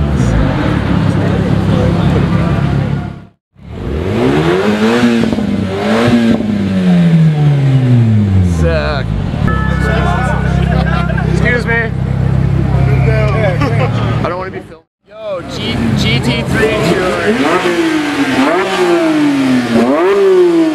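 Gumball rally supercars, including a Porsche GT3 Touring and GT2 RS, launch and rev hard one after another, engines sweeping up through gears with brief gaps between passes, loud and close, with talk from onlookers mixed in.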